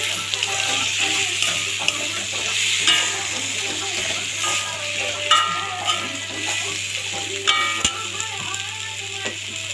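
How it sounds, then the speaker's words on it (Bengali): Ridge gourd and potato pieces fry with spices in a pan, a continuous crackling sizzle broken by repeated scraping and clattering strokes of a spoon stirring, close and fairly loud throughout. "মশলা দিয়ে একটু ভেজে নিচ্ছি"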